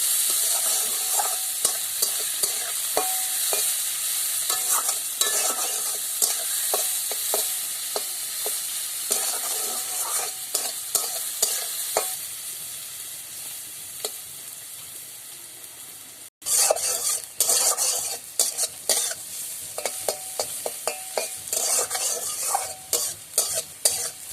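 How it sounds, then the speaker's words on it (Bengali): Chopped onions sizzle steadily in a hot pan while a utensil scrapes and stirs them in repeated strokes, close up and with no talking. "পেঁয়াজগুলোকে ভালো করে ভেজে নেব।"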